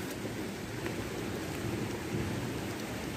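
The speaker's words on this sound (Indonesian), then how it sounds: "Gerimis ya teman-teman, hujan kan gerimis." Steady rain hissing at a tea plantation on Mount Gambir, a continuous even wash of falling drops with no voices.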